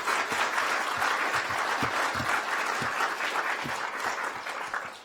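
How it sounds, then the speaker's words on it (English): A crowd applauding readers and performers at a 2020 African American read-in, a dense, steady wash of many hands clapping at moderate loudness that tapers off toward the end, with no voices. "Let's give another round of applause for all our readers and performers."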